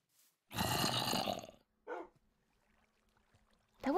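A dog in a video game gives a long, gruff growling bark, followed by a shorter yelp and then a third rising bark at the end, loud and close against silence.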